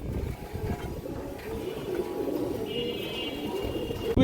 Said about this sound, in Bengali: দেখেন অনেক চঞ্চল একটা কবুতর।